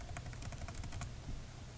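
Quick, light clicks of a computer keyboard rattle off in a rapid burst of about a dozen keystrokes, then stop, over a low steady hum.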